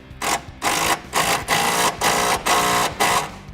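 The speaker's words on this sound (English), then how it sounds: "we can take our impact gun, our socket, and tighten down that top body panel bolt" An impact gun with a socket tightens the top body panel bolt while side step bars are mounted on a 2014-2018 Chevrolet Silverado, giving seven loud, close, evenly spaced rattling bursts with brief gaps between them.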